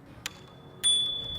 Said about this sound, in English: It's even got a bell.